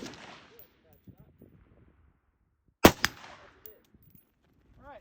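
AR-15 rifle shots fired at a target while zeroing a red dot sight: two sharp, loud reports close together, then quiet with faint background sounds and a little distant chatter.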